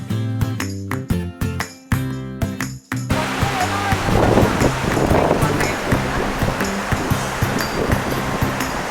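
Vasudhara waterfall near Badrinath, a steady broadband roar of falling water that takes over after a few seconds of louder foreground knocks and clatter, continuing loud and unbroken to the end.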